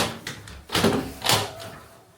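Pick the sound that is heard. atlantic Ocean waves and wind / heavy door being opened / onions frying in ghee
heavy door being opened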